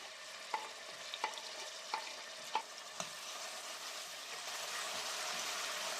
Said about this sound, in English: Toss in the onions and saute them until they are soft.